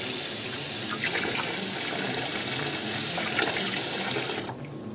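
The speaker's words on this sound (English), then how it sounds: "we're going to run water over a CN50 and submerge it underwater" Water runs steadily from a tap, splashing over a handheld wireless barcode scanner in a continuous hiss, then cuts off abruptly near the end.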